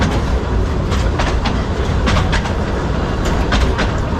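A narrow-gauge steam train rumbles along the rails through a river valley in Romania with steady clickety-clack beats, loud and close, continuous throughout with no voices.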